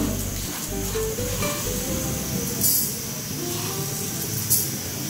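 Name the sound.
panch phoron five-spice added to hot oil, sizzling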